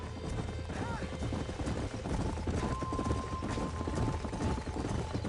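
Horse hooves clip-clopping in the western video game Red Dead Redemption, a steady close rhythm of hoofbeats under mechanical creaks and a brief tonal whine, with no talk over it.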